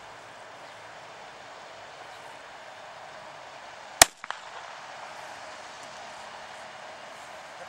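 A single sharp crack from a starter pistol fired outdoors during hunting dog training, loud and close, with a faint echo trailing after it over quiet background hiss.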